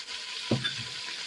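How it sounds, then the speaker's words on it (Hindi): Ground spices, among them red chili, coriander, garam masala and turmeric, roast in a pan with a brief soft sizzle. A single close spoon scrape or thump lands midway. "सारा मसाला को हम 1 मिनट तक भूनने देंगे।"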